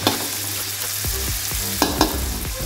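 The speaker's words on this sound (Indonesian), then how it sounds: "Ini juga ditumis sampai dia benar-benar matang." Ingredients being stir-fried in a pan, with a steady close sizzle and repeated scraping stirs, a couple of sharper knocks of the utensil against the pan.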